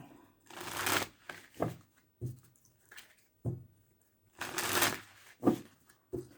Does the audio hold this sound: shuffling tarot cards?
yes